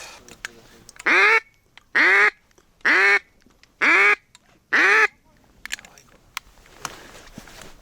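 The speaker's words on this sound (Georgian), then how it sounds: "იხვები ბატონო გარეული იხვი" Five loud, close quacks from wild ducks ring out at an even pace, followed by quiet rustling and faint clicks, during a duck hunt in Georgia.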